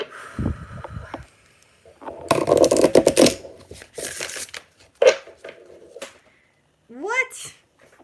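A deck of tarot cards being shuffled up close, several bursts of riffling and card slaps separated by short pauses, with a voice speaking in between.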